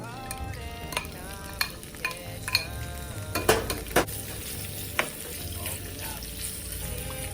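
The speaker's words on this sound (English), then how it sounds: "And then we put the rib in after it was very well marinated." Marinated pork ribs frying in oil made with shallot and garlic, a steady close sizzle with repeated clinks and scrapes of a utensil stirring against the pan.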